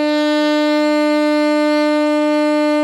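A saxophone holds one long, steady middle B fingered with just the index finger, bright and reedy, loud and close, with no voices over it.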